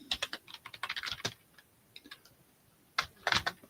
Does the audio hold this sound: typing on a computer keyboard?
yes